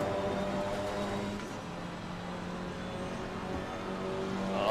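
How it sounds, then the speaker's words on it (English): Maserati GT4 race car in Assetto Corsa Competizione, onboard at Barcelona in a mixed GT3/GT4 grid: a steady engine drone with harmonic tones running throughout, dipping slightly midway and rising again at the end. "Oh, that Maserati does sound so sweet."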